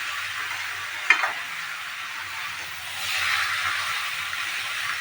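Young jackfruit being stir-fried with ground spice paste in a pan, a soft continuous sizzle with scraping stirs, one sharper clink early on and the frying hiss swelling slightly toward the end; no talking.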